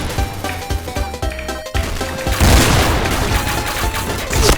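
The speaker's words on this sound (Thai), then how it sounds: "เฮ้ยเดี๋ยวนะเขายิงเราจากไหนอะ" Gunfire in a first-person shooter video game: scattered shots and booms over a tonal game backdrop, building into a louder, sustained burst of fire in the second half.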